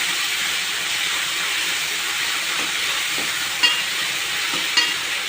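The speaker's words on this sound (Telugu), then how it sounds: "జీరాతో పాటు ఫైన్ గా చాప్ చేసుకున్న ఆనియన్స్ ని కూడా యాడ్ చేసుకుందాం. మంచి రంగు వేలే వరకు ఫ్రై చేసుకుందాం." Finely chopped onions and cumin fry in hot oil, giving a steady, close, hissing sizzle with a couple of faint clinks near the end.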